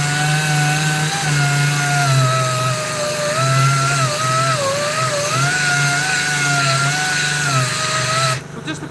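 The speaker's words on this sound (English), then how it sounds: "Probably tell there I'm using a lot of force on the sander." A power sander works hard against two metal plates during surface preparation, a loud, continuous close-up whine with a wavering pitch as force is applied, cutting off near the end; no speech.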